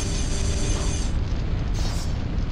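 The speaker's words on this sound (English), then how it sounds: "It's an arm cannon." A Devil May Cry arm cannon fires, giving a dense, loud booming roar that holds steady throughout with a brief surge in brightness partway through.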